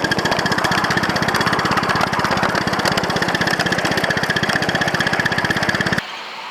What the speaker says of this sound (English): It always makes that animalistic groaning noise when starting on a hill.